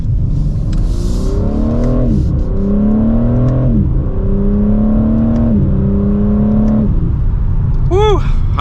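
A 2023 BMW M4 Competition xDrive coupe accelerates hard from inside the cabin, its engine and exhaust climbing through repeated upshifts in a loud rising drone, with a brief voice near the end.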